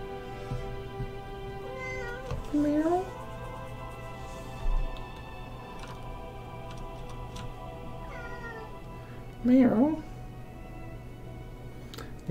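A pet cat meows indoors, two or three distinct drawn-out meows spaced several seconds apart, close by, over quiet background noise and occasional soft talking.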